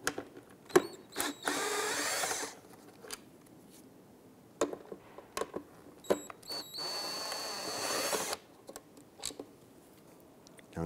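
A power drill backs out two 7mm screws from the front bumper of a 2010-2016 Cadillac SRX, in two separate whirring bursts about a second and a half each, with tool clicks and handling knocks in between.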